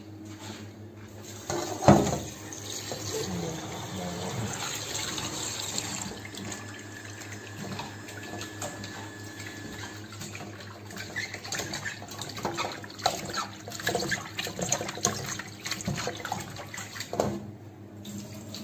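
Lukewarm tap water runs steadily into a kitchen sink while liver is washed, a continuous splashing hiss with occasional louder splashes and dish clatter, fairly quiet overall.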